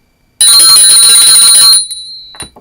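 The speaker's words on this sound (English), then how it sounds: "The newest bell I've purchased for my wife." A newly purchased hand bell rings loudly in one sustained burst lasting over a second, its bright tone decaying, then a brief faint tap follows near the end.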